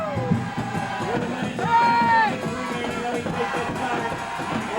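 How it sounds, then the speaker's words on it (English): Spectators at a high school football game between Cherry Hill East and West whoop, yell and cheer in a steady roar, with one louder swell of shouting near the middle. "Looks like the crowd's really getting into it now."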